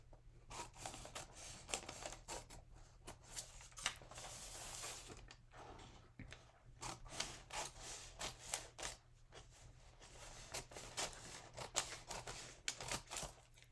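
Scissors cut through fabric while trimming a kitchen towel for a sublimation craft, quiet repeated snips and rustling in an irregular rhythm, close up with no talk.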